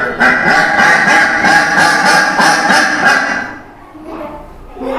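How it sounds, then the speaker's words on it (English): A duck quacks in a rapid, steady run of nasal calls for about three seconds, loud and close, then fades to a few softer sounds near the end. "That was the sound of duck."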